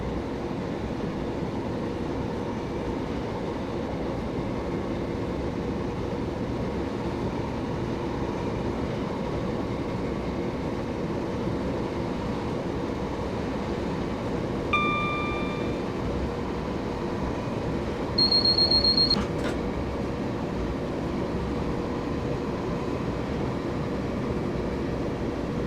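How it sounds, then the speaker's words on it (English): A passenger train in Train Simulator 2016 runs on the London Victoria to Brighton line near Hassocks: a steady, loud rumble of wheels and motor that holds throughout, broken only by a couple of short high-pitched warning tones. "As we get to around 75 miles per hour, I am then going to idle the power and allow the train to coast"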